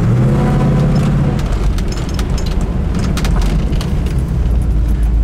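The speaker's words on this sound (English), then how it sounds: "We moved it down into drive and it sits there and idles beautifully." A 1972 Chevrolet Nova engine idles in drive, a steady low rumble running loud and close throughout with no talk.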